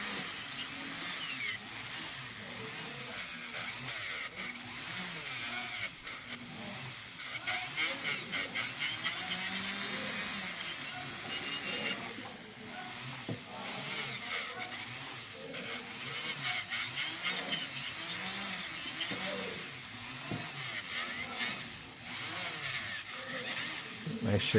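An electric nail file drill works over acrylic nails around the cuticles, giving a steady, fairly loud buzzing whine that rises and dips slightly in intensity across the whole stretch.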